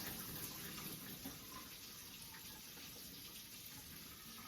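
Steady water pouring off cooked ham hocks into a sink, a continuous rushing flow without pauses, fairly close and moderately loud.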